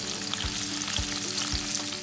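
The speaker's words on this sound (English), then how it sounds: "Now let's fry these bitter gourds on a medium flame." Bitter gourd pieces frying in oil over a medium flame, a dense continuous sizzle close by, broken by a few soft thuds of stirring at regular intervals.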